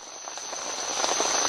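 Steady rain falls at night in the Guatemalan jungle near Tintal, a dense, even patter of drops close around, with a constant high insect whine above it and no voices.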